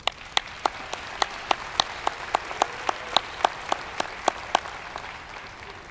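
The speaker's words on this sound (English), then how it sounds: "give yourselves a round of applause as well" At a fall commencement ceremony, sparse, evenly spaced hand claps ring out sharply over quiet room noise, about twenty claps in a steady rhythm.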